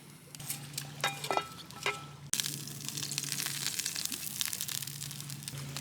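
Fish sizzling and frying in butter in a pan at an outdoor lakeside camp in Finnish Lapland, a steady soft crackle with occasional scrapes and clinks of utensils, fairly quiet and close.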